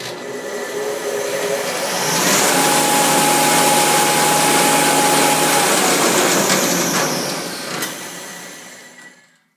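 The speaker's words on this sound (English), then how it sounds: "I put a 5-horse Marathon motor on it." A shop machine driven by a 5 hp Marathon electric motor winds up to a steady, loud whir with a constant tone, runs evenly for several seconds, then spins down and fades out.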